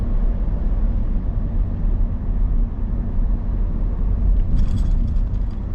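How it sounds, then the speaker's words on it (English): Cabin of a 2021 Mitsubishi Triton diesel single-cab ute at 60 km/h, a steady low road and wind rumble filling the interior with no speech and a brief faint tick near the end. "If you have a listen to the wind noise,"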